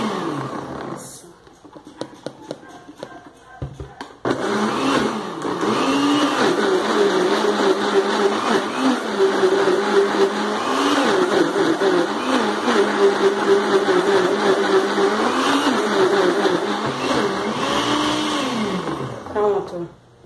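A blender whirs steadily as it beats a natural homemade seasoning, a loud continuous motor drone with wavering pitch that starts after a few clicks and runs for most of the clip.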